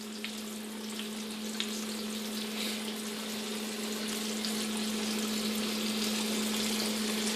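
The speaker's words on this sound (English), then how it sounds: "Hear that delicious frying sound?" Food sizzling in a frying pan during home cooking, a constant crackling hiss with a steady low hum beneath, holding evenly throughout with no talk.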